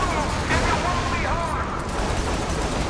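Sustained gunfire in the open-world game Saints Row The Third during a shootout while an elevator is hotwired, a dense continuous barrage with booms and mechanical noise, loud and constant, with a voice talking over it.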